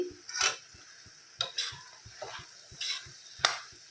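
A spoon stirs mashed tomato into a boti curry in a pan, with repeated scraping strokes against the metal and soft sizzling between them, close and fairly quiet.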